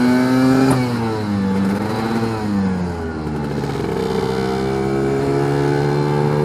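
A Lambretta scooter fitted with a BGM PRO MZ30 exhaust revs hard on the road. Its loud, buzzing two-stroke note climbs, dips briefly around a gear change, then pulls up again, with no talk.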